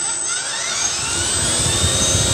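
An FMS F4U Corsair V2 800mm RC model plane's electric motor whines steadily at close range, a high-pitched continuous drone with shifting tones, heard alone without voices.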